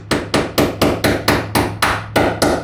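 A hammer drives a track cleat into a catfish boat near the motor bracket: ten sharp, evenly spaced metallic strikes, loud and close, each with a short ringing decay.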